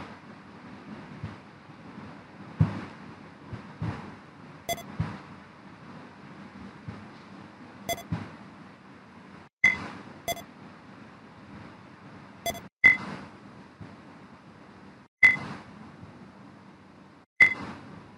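Computer beeps while running a Java program, sharp short tones recurring several times at irregular intervals over faint background noise, with no speech.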